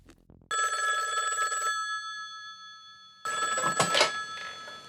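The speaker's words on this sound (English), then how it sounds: "3 hours later, she received a phone call." A telephone bell rings in two loud, close bursts separated by a short pause, with a faint thump and rustle at the very start and some handling noise under the second ring.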